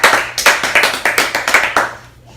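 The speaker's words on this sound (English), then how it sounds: "Come on, we clap one more time." An audience applauds a woman who retired at 37, a short run of about a dozen crisp, evenly spaced hand claps, close and loud, trailing off at the end with no talk over it.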